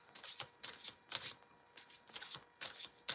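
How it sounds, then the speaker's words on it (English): Oracle cards from a Wild Woman Rising deck being shuffled and drawn, several quick papery riffling bursts alternating with short pauses, close and fairly soft, with no talking. "So we're going to pull 3 cards for Susanna."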